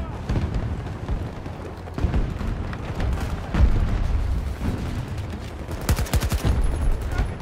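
Dense, loud gunfire from a Battlefield 2042 Breakthrough match, with rapid automatic bursts and heavy booming impacts overlapping continuously, including a sharp run of close shots near the end; no voices.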